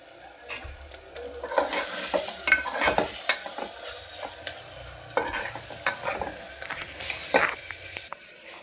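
Tomatoes and coriander frying in a pan, with the spoon scraping and stirring the mixture repeatedly over a steady sizzle, close and moderately loud, with no talking.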